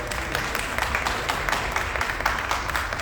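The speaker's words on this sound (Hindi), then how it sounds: "जोरदार ताली हो जाएगी।" Live stage show crowd applauding, a dense, steady patter of many hands clapping at a moderate distance, continuous for the whole stretch.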